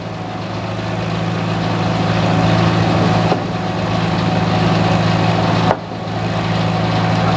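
A tractor engine runs steadily at a sawmill demonstration at an old-fashioned show, a loud, continuous low rumble with two brief dips in level, and no talking.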